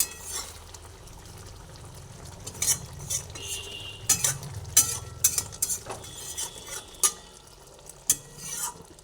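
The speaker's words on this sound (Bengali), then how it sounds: "দিয়ে দেওয়ার পরে আবার ভালোভাবে আলতো হাতে এধার ওধার করে দিচ্ছি" Eggs turned gently in a pan of gravy, soft sizzling beneath intermittent spoon scrapes and light metallic clinks against the pan, close and fairly quiet, with the strokes coming at an unhurried pace.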